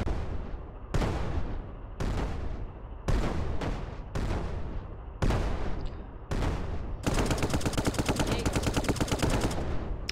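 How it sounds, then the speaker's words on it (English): In the Brick Rigs video game, a tank fires a series of loud, heavy booms spaced about a second apart, each decaying quickly, then breaks into a sustained rapid burst of rattling fire. "The tank's so loud."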